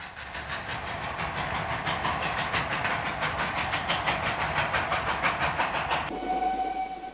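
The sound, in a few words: PT-47 series express steam locomotive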